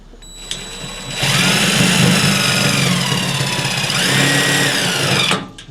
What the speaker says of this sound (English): So I'm gonna drill right into the metal body, into this little tab that's on a little hinge.